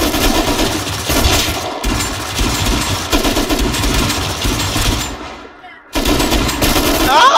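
Gunfire in the video game Rust as players shoot scientists on an oil rig helipad: loud, rapid bursts of automatic fire, nearly continuous, with a short pause and a drop before the shooting resumes; faint voices may sit underneath.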